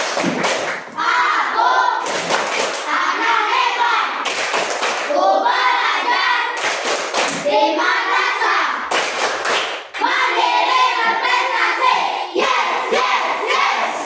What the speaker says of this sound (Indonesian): Tepuk madrasah.